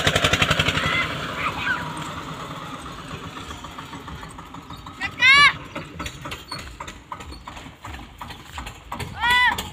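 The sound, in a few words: Eicher 241 tractor engine driving in third gear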